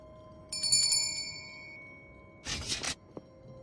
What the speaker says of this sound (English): Perhaps some kind of doorbell?